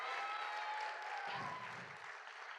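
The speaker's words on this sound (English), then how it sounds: "let's give a round of applause to the driver real quick" A group bursts into applause for a driver at the RYLA 2025 youth leadership gathering, a loud, dense wash of clapping that holds steady for a couple of seconds before easing slightly.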